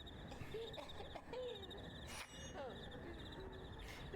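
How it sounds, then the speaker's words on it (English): Faint crickets chirp in a steady pulsing chorus on a quiet night, with a few soft bird-like calls and low background hiss mixed in. "That's just crickets."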